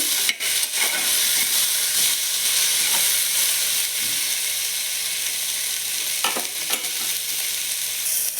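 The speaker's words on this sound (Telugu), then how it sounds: "మీడియం ఫ్లేమ్లో ఒక ఐదు నిమిషాలు బాగా వేయించుకోవాలి" Cluster beans frying in a pan on a medium flame, giving a loud, continuous close sizzle with occasional stirring scrapes and clicks.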